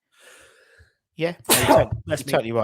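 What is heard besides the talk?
sneeze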